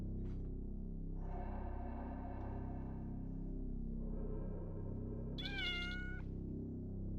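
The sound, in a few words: cat meowing in PS1 video game Otogirisou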